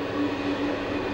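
A heavy 374-tonne German Bahnpost mail train runs near Mainz station, cleared for 120 km/h, giving a steady, close, continuous rumble of wheels and carriage with no pauses or talk.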